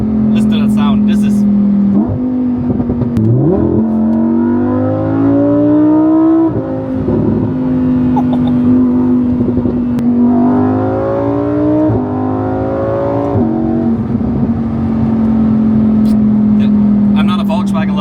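Lamborghini Huracan convertible driving on a Dubai highway: a loud, close engine drone rising and falling through repeated revving gear pulls, with a person talking over it throughout.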